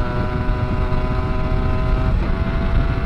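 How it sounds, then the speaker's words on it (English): A motorcycle engine revs steadily at high pitch, loud and close, with a brief dip as it shifts before climbing again. "I really love the high revving nature of this bike."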